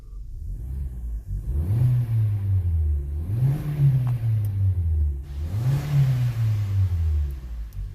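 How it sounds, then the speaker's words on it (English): A 2015 Hyundai Elantra with a 1.8L engine and an exhaust cam phaser fault revs three times in a row from inside the car, each rise a smooth climbing whir that falls back to idle, steady and fairly loud. "Let's rev it again here."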